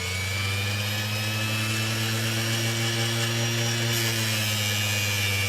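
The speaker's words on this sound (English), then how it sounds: "I grind a little bit at a time, just so I don't grind too far. Let's turn up the speed." A power tool grinds a water lotus seed, a steady loud whine with strong low harmonic bands and a broad hiss that holds constant, with a brief shift in pitch near the end.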